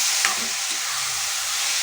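Grated bottle gourd and potato fry in a hot pan under a constant close sizzle, with a few brief scraping stirs near the start.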